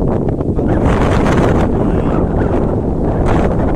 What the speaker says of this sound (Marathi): वारा खूप आहे इथं